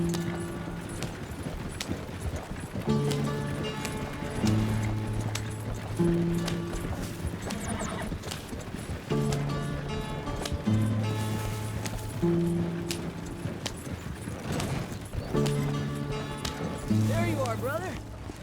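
A horse's hoofbeats clatter along in Red Dead Redemption 2, a steady rhythmic clip-clop running under a melodic music score for the whole stretch.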